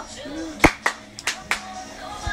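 Several hand claps, four or five sharp separate slaps at an irregular pace, close by in a quiet room with a faint voice in the background.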